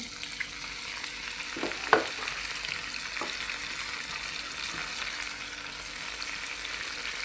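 Potatoes frying in hot oil for a home dinner, a steady soft sizzle with occasional crackles and a few brief stirring scrapes, fairly close and alone.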